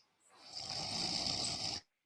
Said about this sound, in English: that is snoring